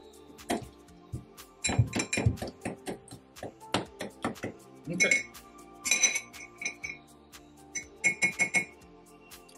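Ice cubes drop and clink against a cocktail glass for an Old Fashioned, with bright, irregular knocks and glassy rings in several bursts, close by, with some soft voice underneath.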